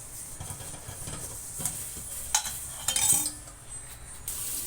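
Ghee heating in a kadhai gives a faint, soft sizzle under scattered metallic scrapes and clinks of a spoon against the pan, with a few sharper knocks, fairly quiet and close.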